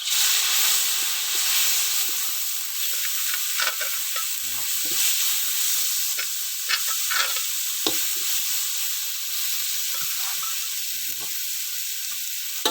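Curry paste and aromatics stir-fried in a pan for spicy catfish give off a loud, steady sizzle, broken by scraping strokes of the spatula at irregular intervals.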